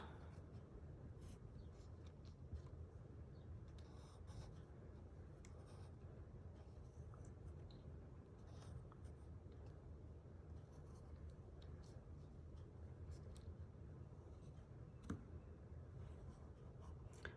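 Pencil tracing part of a flower outline onto paper while making a homemade birthday card, a steady soft scratching that continues close and quiet throughout.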